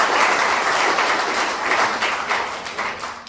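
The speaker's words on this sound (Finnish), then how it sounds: "Tähän mun mielestä kuuluisi aplodit" Audience applause at a Finnish panel discussion on digital school textbooks and teaching, a fairly loud burst of many people clapping that gradually thins and tapers toward the end.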